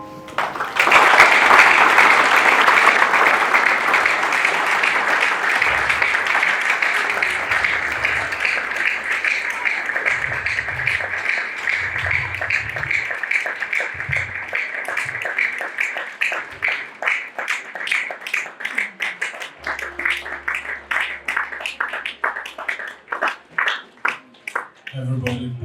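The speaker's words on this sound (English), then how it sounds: "Can I get another round of applause?" Sustained audience applause after a motivational talk, dense clapping throughout, thinning into more distinct individual claps toward the end, with brief low murmurs underneath.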